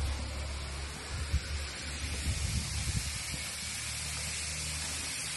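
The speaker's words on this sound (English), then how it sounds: "You ain't gotta turn it off, you gotta spray it all out." A spray gun on a dump truck releases a continuous broad hiss that holds steady for several seconds at moderate distance, with faint low rumbling underneath.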